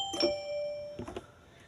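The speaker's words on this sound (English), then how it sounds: "music box," Bell-like music box tones from a Yamaha synthesizer: two quick pairs of bright, ringing struck notes with sustained shimmering decay, played alone and moderately loud.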